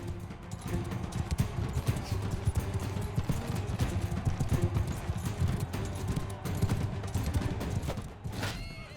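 Horse hooves clatter in a steady rapid rhythm during a Mount and Blade 2 Bannerlord battle, mixed with clashing combat noise and occasional shouts, at a moderate distance.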